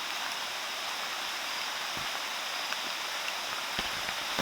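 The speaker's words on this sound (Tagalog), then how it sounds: "Umuulan." Steady broadband hiss of rain, an even wash of noise with occasional faint drops, no voices.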